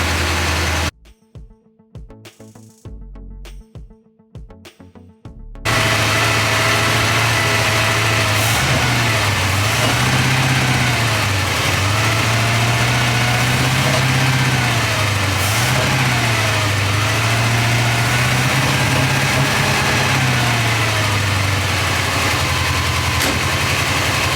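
A Porsche 928 V8, being checked for a misfire, catches after a brief choppy start and settles into a steady, loud idle with a low, even rumble close by.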